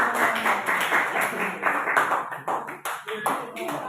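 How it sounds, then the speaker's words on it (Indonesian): Clapping for a student group fills a classroom, a loose patter of hands that runs steadily under ongoing voices, with no single dominant burst. "Aplaus untuk kelompok 4."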